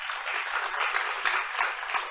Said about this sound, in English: Finally, give the applause for the panelists and for you all.